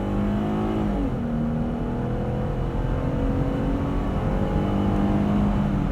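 A 2020 Jeep Gladiator Overland's 3.6 liter V6 pulls steadily under acceleration on a night drive, heard from inside the cab as a continuous moderate engine drone with road noise, the pitch dipping briefly near the start and then climbing gradually.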